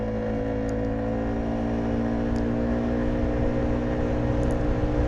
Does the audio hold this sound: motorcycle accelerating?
yes